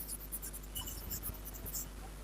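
Faint, scratchy strokes of writing on a board during a trigonometry lesson, short irregular scrapes and taps over a steady low hum with no talking.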